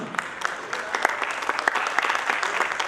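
Theatre audience at a comedy play applauding, with many hands producing a thick bed of clapping and sharp individual claps popping out, growing slightly louder over nearly three seconds.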